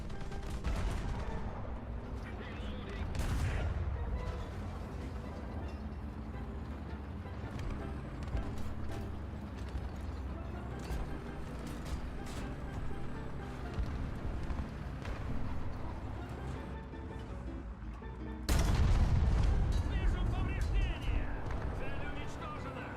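Video game gunfire in a multiplayer shooter, repeated loud bursts of shots and booms over a busy mix, with players talking throughout and a heavy blast near the end.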